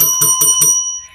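A notification bell sound effect rings four quick, bright metallic dings in even rhythm, loud and alone, with a ringing tail that fades out.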